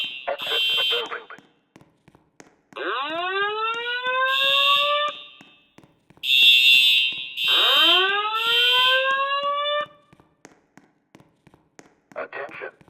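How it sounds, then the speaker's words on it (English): Building fire alarm sounding repeated loud whooping sweeps, with bursts of high tonal alert between them, alternating with a recorded voice announcement, all close and clear. "Attention. This is a fire alarm. Exit the building."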